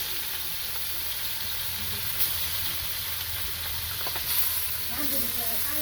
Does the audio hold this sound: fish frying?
yes